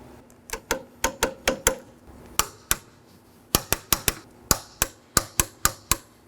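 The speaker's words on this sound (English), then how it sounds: "I'll be torquing these 10mm bolts to 12 foot-pounds" Sharp metallic clicks from a torque wrench tightening 10mm bolts to 12 foot-pounds on a 2013-2019 Nissan Sentra strut assembly, about two dozen crisp, close clicks in quick uneven groups.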